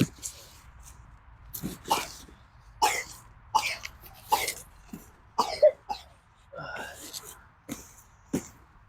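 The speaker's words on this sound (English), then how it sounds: "That cough just ain't leaving you alone, is it" Several sharp, raspy coughs spaced irregularly, close to the microphone, with faint background noise between bursts.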